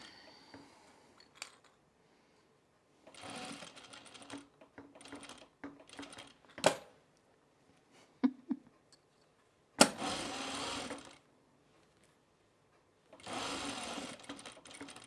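A sewing machine stitches a Sylvan jacket in several separate bursts of steady whirring, each lasting a second or two, with short pauses and small handling clicks between them. It is close and moderately loud.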